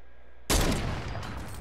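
A single sharp sniper shot in Fortnite cracks in loudly after half a second of quiet, then trails off in a decaying echo.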